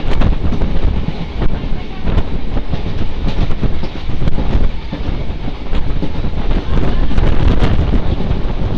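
Riding aboard a moving train, a steady loud rumble with rhythmic clickety-clack of the wheels and gusty wind buffeting the microphone throughout.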